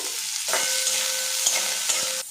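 Chopped onion dropped into hot oil with cumin, hissing and sizzling loudly as it is stirred, with a few sharp scraping knocks of a spatula against the pan.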